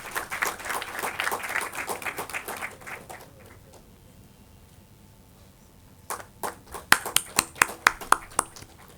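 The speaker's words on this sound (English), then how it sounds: "Please give them a huge round of applause." Scattered applause for panel members at a book publication event and panel discussion, fading into a quiet pause before a second round of sharper, sparse claps from a few hands.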